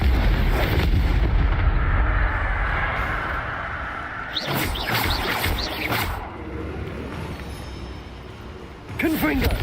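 Confringo blasting spell explosions in the Hogwarts Legacy video game, booming fire and bursts rolling through most of the stretch, with game sounds and voices mixed in and a fresh blast near the end.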